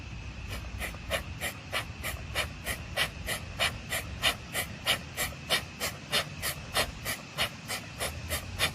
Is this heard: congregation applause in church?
no